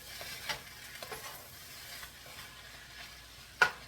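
Rice fries in a pan with a quiet, soft sizzle, broken by a few light stirring scrapes and one sharp clink near the end.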